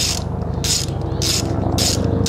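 A ratchet clicks steadily in repeated bursts while backing a spark plug out of a Nissan 240SX engine, close and loud with rhythmic pawl ticking and no talk.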